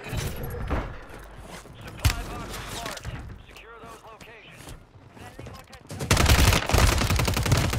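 Gunfire in Call of Duty on Rebirth Island, with loud bursts of shots spread through the clip and a heavy, sustained volley at the end. A voice talks over the shooting.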